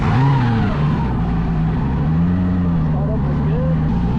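A V8 turbo engine on a jet ski runs loud and steady close by, a continuous rumbling drone that shifts slightly in pitch as it idles and revs.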